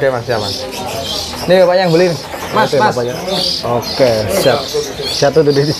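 Caged pigeons or doves cooing and small birds chirping at a bird market kiosk, repeated close coos and tweets heard under lively conversation between a seller and buyers.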